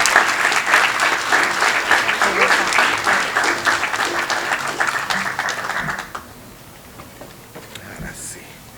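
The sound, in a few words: audience applause for Rosa Fernandez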